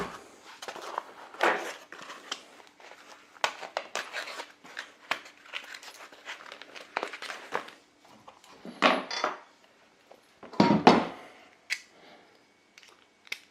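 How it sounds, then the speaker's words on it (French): Screws being removed from a piece of furniture with a small tool: scattered sharp metallic clicks, taps and clinks close by, irregular with pauses between them and a few louder clattering bursts, and no voices. "On va sortir toutes les vis."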